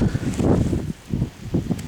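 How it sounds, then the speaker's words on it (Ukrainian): Gusty wind buffets the microphone in uneven low rumbling bursts, rising and falling over a couple of seconds outdoors. "ох і вітер який"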